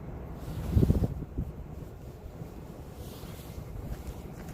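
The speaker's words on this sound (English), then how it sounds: "But it's windy." Low, rumbling wind buffeting the microphone continuously, with a stronger gust near the start before settling into a steady roar.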